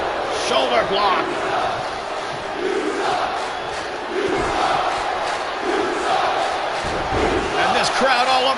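A live indie wrestling crowd in Manchester, New Hampshire roars and jeers at Johnny Lawrence, a steady wash of shouting voices broken by a couple of heavy thuds from the ring, with announcer talk over it.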